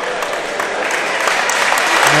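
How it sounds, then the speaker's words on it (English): Crowd applauding at a high school basketball game at Paul VI High School, dense continuous clapping filling the gym, steady and loud throughout with a slight rise at the end. "the crowd gives him a round of applause here at Atlantic City High School"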